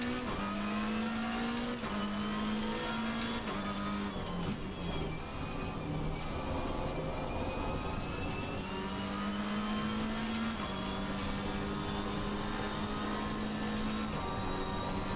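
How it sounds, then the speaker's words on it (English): A McLaren 720S Evo race car laps the Zandvoort circuit, heard from inside: a loud, steady engine drone climbs in pitch through the gears, with brief drops at each upshift and braking, continuous throughout. "So that is a quick lap of Zandvoort in the McLaren 720S Evo"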